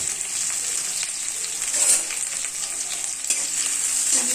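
Green chillies fry in hot oil for chicken curry, a steady close sizzle with faint stirring scrapes throughout and no talking.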